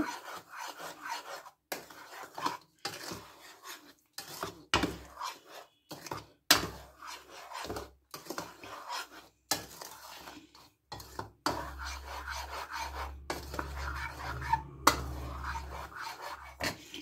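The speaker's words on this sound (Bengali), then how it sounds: "হাফ চামচি সুজি নিয়ে নিলাম, চামচি নুন দিয়ে নিলাম, ভালো করে মিশিয়ে নেব" Semolina, rice flour and salt get mixed in a bowl with a spoon, giving repeated dry scraping and rasping strokes in an irregular rhythm, close and moderately loud with no talk.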